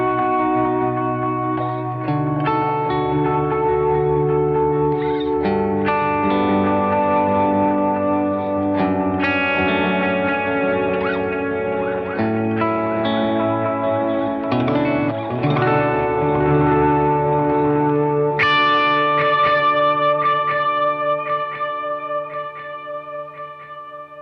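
An OBNE Black Fountain V4 oil-can delay pedal set for a dual repeat, running mono, with plucked guitar notes trailing into warm, wobbling echoes that stack and smear across a steady half-minute passage with no talking.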